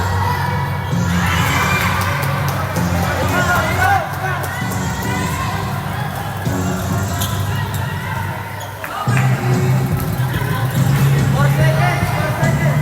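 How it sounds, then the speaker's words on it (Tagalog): Hyped basketball crowd in a Division 3 five-on-five game, Silang 1 versus Gentri, a loud continuous roar of cheering and shouting voices with a commentator talking over it throughout. "Pati yung crowd na hype."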